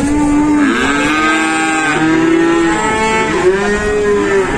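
Cattle calves bred for fattening moo on an Indonesian cattle farm, several long bellowing calls overlapping one after another, loud and close with no talking.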